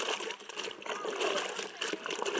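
Water splashing and sloshing as someone washes in a river outdoors in a village, with a voice talking over the irregular splashes.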